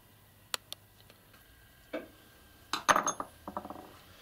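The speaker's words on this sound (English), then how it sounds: "next will be removing that pin that's retaining the firing pin cylinder and spring cap." Small metal taps and clinks come from a Stirling rifle bolt as the retaining pin is worked out of the firing pin cylinder. Several short, close ticks are followed by a quick cluster of sharper clicks near the end, with no talk.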